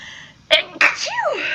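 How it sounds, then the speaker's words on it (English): A single sharp sneeze from a person, a quick inhaled catch followed by the explosive burst, close up and loud, trailing into a brief vocal sound afterward. "Alright, I'm gonna sneeze."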